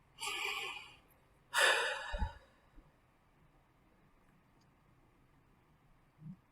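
Two deep breaths during a guided relaxation exercise: a slow, airy inhale followed by a long, breathy exhale, both close and clear, then near silence with a faint soft sound at the end.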